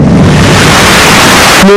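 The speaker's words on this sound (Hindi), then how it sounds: "तेज बारिश भी शुरू हो गई" Cartoon thunder and heavy rain form a loud, dense roar of downpour with a rumbling burst, continuous and overwhelming, ending in a brief tonal sting.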